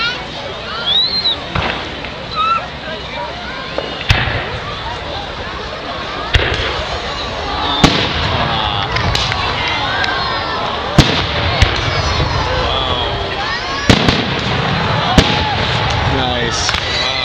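Victoria Day fireworks bursting outdoors: repeated sharp bangs and crackling pops at irregular intervals over a continuous crowd murmur, with people talking and exclaiming throughout.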